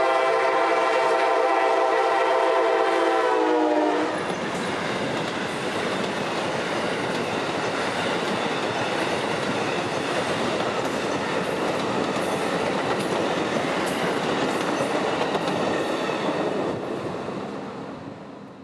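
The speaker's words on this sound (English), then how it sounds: "now our third Amtrak in 30 minutes arrives. Amtrak 92, the northbound Silver Star, bound for Tampa, this one running right on time." An Amtrak Silver Star passenger train arrives in central Florida. It opens with a loud, sustained multi-tone horn blast for about four seconds, then a heavy, continuous rumble and wheel clatter as the cars roll past close by.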